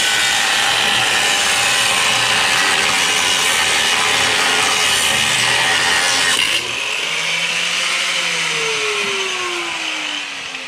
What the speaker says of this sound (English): just finished grinding another bolt off